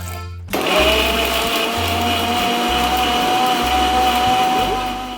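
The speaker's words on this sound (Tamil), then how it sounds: "ஒரு மிக்ஸி ஜார் ஜூஸரில் போட்டு இது எல்லாத்தையுமே நல்லா அரைச்சி எடுத்துக்குவோம்." A mixer grinder blending black grapes with water whirs loudly and steadily after a brief pause, its motor drone holding a continuous high whine with a pulsing low hum.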